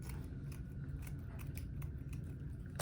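Scissors snip through a row of tulle ribbon for a Dollar Tree wreath, a steady soft rustle of cutting strokes with a sharper close crunch at the very end, quiet and without speech.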